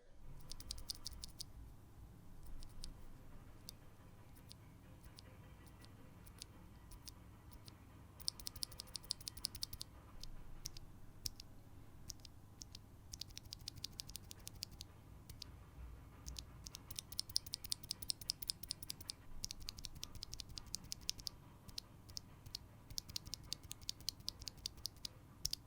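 Keys clatter on a mechanical keyboard fitted with stock switches, in soft, quiet bursts of rapid clicks with brief pauses, close up and recorded alone without any voices.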